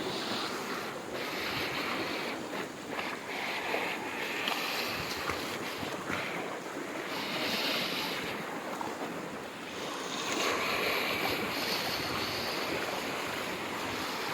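Floodwater from the Koh-e-Suleman hills pours into a settlement near Dera Ghazi Khan, a steady, loud rushing roar with wind buffeting the microphone throughout and no pauses.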